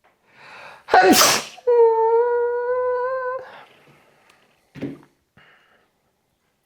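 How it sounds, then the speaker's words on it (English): A person sneezes once loudly and close by in a room, a sharp burst preceded by a short inhaled build-up, followed by a long sustained tonal vocal sound and a few softer breaths and shuffles. "I'm about to sneeze again."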